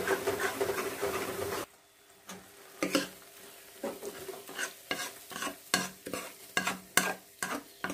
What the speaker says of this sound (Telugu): ఇలా ముదిరిపోయిన పాకాన్ని మనం ఇప్పుడు ఆ పల్లెంలోనికి ట్రాన్స్ఫర్ చేసుకుందాం।